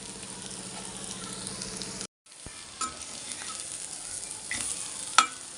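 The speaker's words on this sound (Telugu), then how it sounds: "ఈ కూర పది నిమిషాలు వేయించుకోవాలి" Bitter gourd and onion curry sizzles steadily in a pan, a dense close frying hiss that cuts out briefly and resumes with occasional stirring clacks and a sharp spoon tap near the end.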